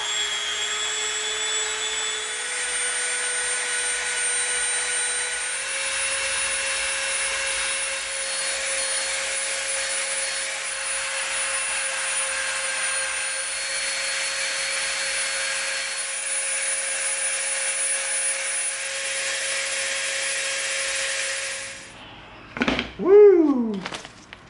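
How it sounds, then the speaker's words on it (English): Dremel rotary tool cleaning up the edges of EVA foam, a continuous high-pitched whine that runs steadily for about twenty seconds, then stops, followed by a brief wavering sound at the end. "Right there, we'll clean this up with the Dremel."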